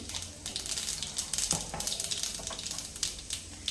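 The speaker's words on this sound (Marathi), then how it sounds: "मोहरी तडतडल्यानंतर जिरंही घालून घेते." Mustard and cumin seeds crackling and popping in hot oil, a busy run of sharp little snaps over a soft sizzle, close and fairly quiet.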